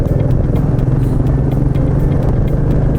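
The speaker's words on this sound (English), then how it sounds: "Listen to that hum of the engine, it's really satisfying actually." A Royal Enfield Meteor 350 single-cylinder motorcycle engine hums steadily and loudly at a constant pace, with a low pulsing drone and some wind rush throughout.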